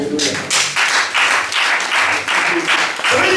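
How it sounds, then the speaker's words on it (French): A church congregation bursts into loud applause and cheering during an evangelist's French-language sermon, sustained, dense clapping in repeated waves from a large crowd close by. "Est-ce qu'on peut acclamer le Seigneur?"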